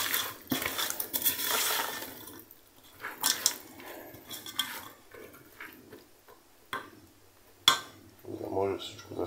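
Scraping and clinking of a utensil against the metal pot of a multicooker pressure cooker, stirring beans in uneven strokes, close by, with a quiet voice talking in between.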